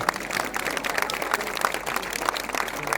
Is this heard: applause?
yes